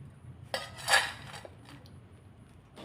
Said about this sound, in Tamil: இப்போ இதை ஒரு பாத்திரத்துக்கு நான் மாற்றிக்கிறேன்